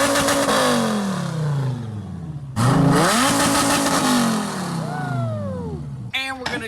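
V10 engine revving hard up to its rev limiter, loud close sweeping rises and falls in pitch with sharp repeated blips at the limit, voices cheering and talking alongside.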